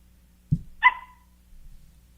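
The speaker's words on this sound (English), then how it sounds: "I hear a puppy in the background, too." A puppy gives a single short bark followed by a brief higher yelp, faint and somewhat distant in the background of a quiet room, with no talking over it.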